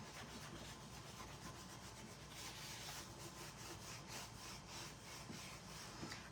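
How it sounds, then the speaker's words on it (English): Steady scraping and rubbing of a tool burnishing a craft transfer onto a vintage-style Christmas Santa round, continuous and quiet, close up with no pauses. "now we're going to burnish them in. And burnishing just means getting it into our surface here"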